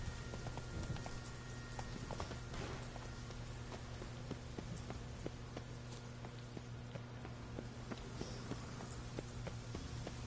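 A horse walks in the video game The Witcher 3, with steady, repeated clip-clop hoofbeats at a walking pace over a low ambient hum.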